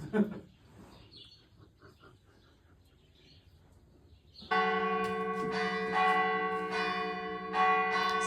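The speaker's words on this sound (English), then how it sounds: "Excuse the bells of the church" Church bells ring loudly and steadily in a continuous peal near a chateau after a quieter stretch of outdoor ambience with faint bird chirps.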